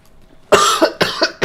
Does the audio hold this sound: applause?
no